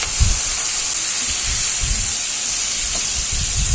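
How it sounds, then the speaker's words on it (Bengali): Prawns fry in hot mustard oil in a wok, a steady close sizzle and hiss running throughout with soft low bubbling pops, no voices. "তেলটা গরম হয়ে যাওয়ার পর কড়ার মধ্যে আমি চিংড়ি মাছগুলো দিয়ে দিচ্ছি"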